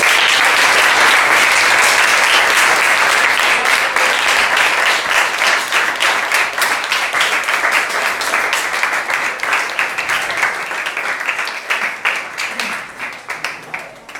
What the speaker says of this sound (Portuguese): Palmas para o nosso líder.